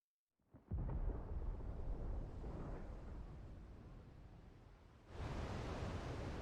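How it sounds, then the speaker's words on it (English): Deep rolling thunder from the Final Fantasy XVI video game, a broad low rumble that starts abruptly and sustains loudly, then swells again near the end, with no talk over it. "Sounds like thunder."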